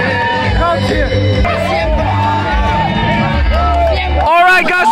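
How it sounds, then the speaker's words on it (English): A dense festival crowd at the Kut celebration in Churachandpur fills the air with loud, close babble, overlapping shouts and whoops, with music-like tones and voices layered throughout. "we couldn't manage it because of the crowd here"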